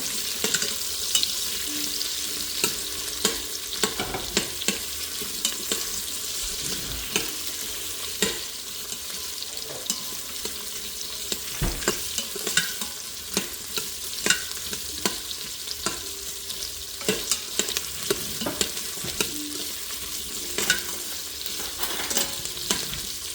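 Onions frying in a pan for homemade vegetable biryani, a continuous sizzle broken by frequent scraping and clattering stirs of a spoon against the pan, close and steady throughout with no talking.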